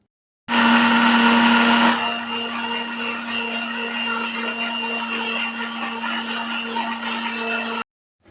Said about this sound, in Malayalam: നമുക്ക് ഇതൊരു മിക്സിയുടെ ജാറിലിട്ടിട്ട് കുറേശ്ശെയായിട്ട് നല്ല ഫൈൻ പേസ്റ്റായിട്ട് അരച്ചെടുക്കാം